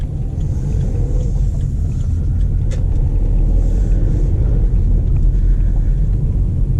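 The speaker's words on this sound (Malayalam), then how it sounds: "കാരണം എൻജിൻ അത്യാവശ്യം സൗണ്ടുണ്ട്." A Skoda Rapid Monte Carlo with a 1.0 TSI engine drones along from inside the cabin, a steady low engine and road rumble with faint wind noise and no talking.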